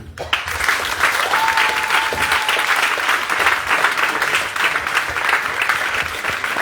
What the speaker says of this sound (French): Il faut applaudir d'abord la mère.